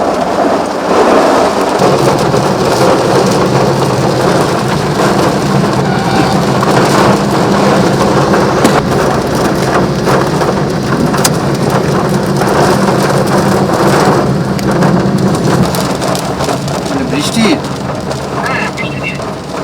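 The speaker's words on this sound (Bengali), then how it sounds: "বজ্রবিদ্যুৎ সহ একেবারে ঝেঁপে বৃষ্টি" Heavy rain with thunder and lightning over Kolkata, a loud, dense, constant roar of downpour with low rumbling thunder beneath and a faint hint of passing traffic.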